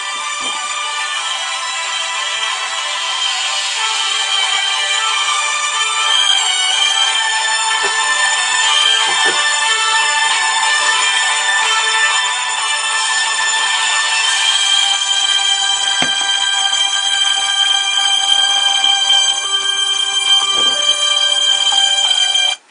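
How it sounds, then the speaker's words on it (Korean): A smartphone ringtone plays continuously for over twenty seconds, a bright, steady electronic melody with repeating tonal notes at even loudness and no talking over it. "벨소리 끝날 동안 좀 기다리겠습니다."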